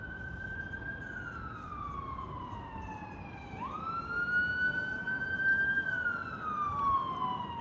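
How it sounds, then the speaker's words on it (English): An emergency vehicle siren wails along a Blackpool street, its tone sweeping slowly up and down, moderately distant over steady traffic rumble and growing slightly louder. "Oh, I can hear sirens again."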